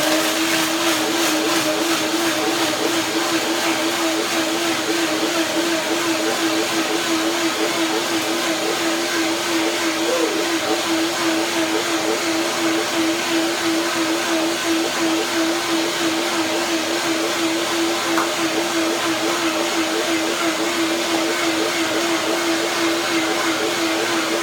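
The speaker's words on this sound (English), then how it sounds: "I blend it with the 1 cup of water" A blender runs continuously on garlic and water, a loud, steady motor whir with a constant pitch and no talking, holding even for the whole stretch.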